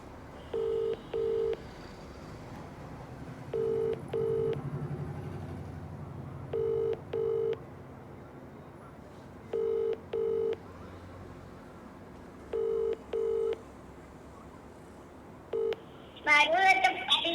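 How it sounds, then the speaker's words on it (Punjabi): A phone is dialed for a call, with DTMF key tones coming in paired bursts at regular intervals over a faint hum, followed at the end by a brief louder ring or connection sound. "ਆਜੋ ਅਸੀਂ ਫੋਨ ਲਾਉਂਦੇ ਆ"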